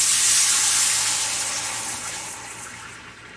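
Chicken stock poured into a hot pot of gravy, a loud broad hissing splash and sizzle that slowly tapers off, close and continuous.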